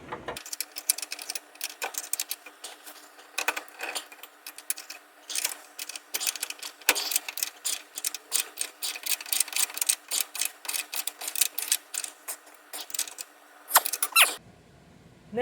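Ratchet wrench tightening an 18 mm nut on a Jeep XJ Cherokee adjustable trackbar, rapid rhythmic clicking in bursts close by, pausing briefly between strokes.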